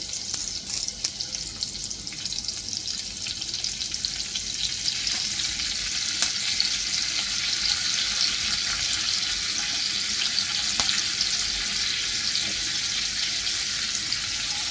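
Curry leaves tempering in hot oil in a Marathi kitchen make a loud, constant crackling sizzle with sharp spitting pops, no talk over it.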